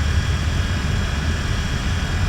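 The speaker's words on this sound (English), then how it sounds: "Bring the throttle. The propellers up all the way." Propeller aircraft engine in a MilViz flight simulator running at full throttle with propellers up, a loud steady drone and hum without talk.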